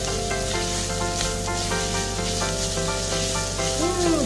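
Garlic sautéing in hot oil for chicken krengsengan, a continuous close sizzle and crackle with the sound of stirring running through it, under a background hum and without any talk.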